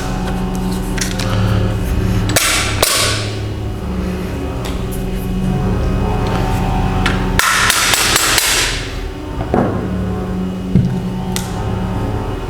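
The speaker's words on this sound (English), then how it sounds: "We use a plastic hammer there, not metal hammer." A plastic hammer taps shotgun receiver parts while the Antares Guns MG-99 magazine shotgun is assembled, giving several loud, separate knocks spaced a few seconds apart over a steady low background hum.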